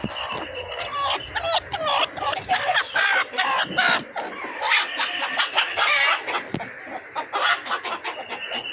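Busy chorus of parent-stock chickens, white, black-and-white and red-and-white, clucking and calling close by, overlapping continuously with a few louder squawks.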